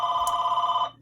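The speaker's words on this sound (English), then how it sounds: "Sorry for the phone call." A telephone rings once in a single sustained electronic tone, loud and close, then cuts off abruptly.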